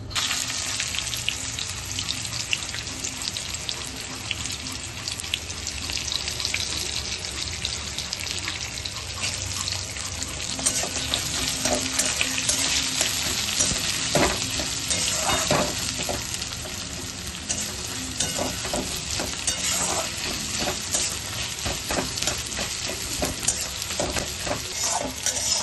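Chopped onion fries in hot oil with bay leaf, cinnamon and cardamom, producing a steady, dense sizzle throughout with occasional stirring clicks and scrapes.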